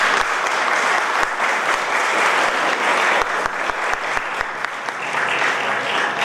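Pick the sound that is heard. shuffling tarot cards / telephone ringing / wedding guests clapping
wedding guests clapping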